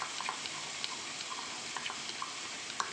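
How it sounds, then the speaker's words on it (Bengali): A cashew and whole spice paste sautés in oil-rich masala for a vegetarian paneer dish, giving a soft, steady sizzle with faint scattered stirring clicks, quiet and without talk. "দেখো ভালোভাবে কষিয়ে নেওয়া হচ্ছে।"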